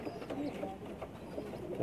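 A Pakistani pigeon on a rooftop loft gives low, soft coos close by, with a faint background murmur.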